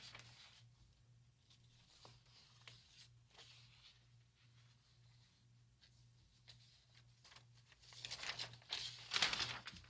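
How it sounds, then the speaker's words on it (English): Paper sheets being handled and straightened at a desk during a live talk stream, with soft crinkling and rustling throughout, growing louder and busier near the end over a steady low hum. "Go to Wrigley Field, Jose, while I straighten these papers out here."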